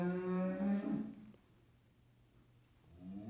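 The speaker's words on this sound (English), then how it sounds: "That was the sound that a cow makes." A cow moos once in a long, low, resonant call lasting about a second, close and clear, followed by quiet room tone and a faint second low sound beginning at the end.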